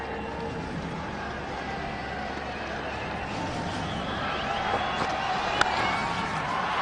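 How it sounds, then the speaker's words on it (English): A large cricket stadium crowd in an India versus Australia one-day international roars and cheers continuously as India's Sachin Tendulkar scores his first runs, a dense, distant wash of voices with no break. "And just listen to the crowd."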